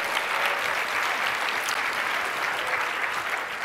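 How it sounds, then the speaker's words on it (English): A keynote audience claps for an audience member named Corelli, producing thick, continuous applause from a large crowd, level and sustained from start to finish with no talk on top. "give him a round of applause."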